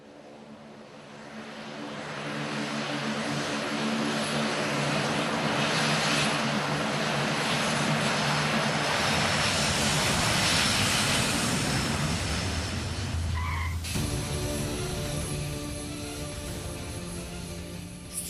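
A large VIP passenger aircraft passes overhead with a loud, broad engine roar that swells over several seconds, peaks and then fades, ending in a sudden cut to a quieter steady drone.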